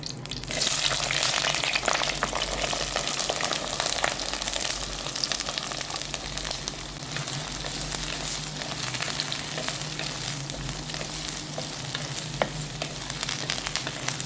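Shallots, curry leaves and green chilies hit hot oil for a Kerala-style ulli theeyal, bursting into a loud, dense sizzle that holds steady and close for the whole stretch.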